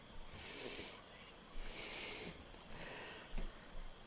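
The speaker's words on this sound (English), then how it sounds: "It sounds as though it's either growling or snoring." A creature snoring or growling in slow rasping breaths, three long hissing swells with short snorts between them, faint and steady.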